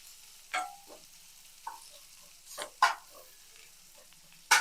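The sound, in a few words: potato omelette frying in a pan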